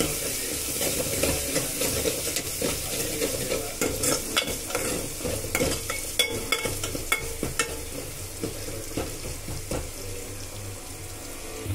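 Dosakaya pappu ingredients frying until golden in a pan, a continuous sizzle broken by repeated scraping stirs of a spatula, close and steady with no talk.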